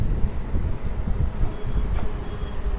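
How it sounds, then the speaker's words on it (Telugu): The Simhadri Express pulls out of Bhimadole station, giving a low, steady rumble and clatter of rolling rail cars heard from on board. "మన ట్రైన్ వచ్చేసి భీమడోల్ నుంచి అయితే బయలుదేరిపోయింది"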